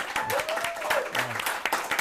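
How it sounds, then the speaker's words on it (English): Brief applause from a small audience honors Mike at a local Hot Springs show, a short, moderately loud burst of clapping with some voices mixed in. "Let's give Mike a big round of applause."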